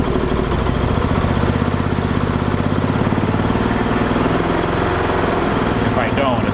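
A 2005 Club Car Precedent gas golf cart engine with its crankcase overfilled with gas and oil, running with a steady, loud, rapid putter throughout.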